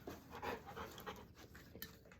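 An XL American Bully panting quietly during a first training session, a soft rhythmic breathing that stays faint and steady throughout, with no voices.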